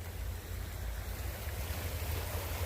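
Flowing water along a trail, a steady broadband rush with a low rumble, like a small waterfall or stream, continuous and fairly close with no voices.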